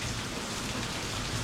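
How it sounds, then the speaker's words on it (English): Heavy rain pouring down in a dense, steady hiss during springtime flooding, loud and continuous with no voices. "It has been raining for 4 days,"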